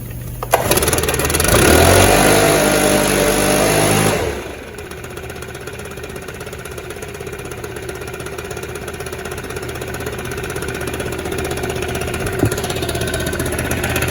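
A STIHL BR600 backpack leaf blower engine is choked and started, roaring loudly for about four seconds before dropping to a steady, lower running drone that continues alone.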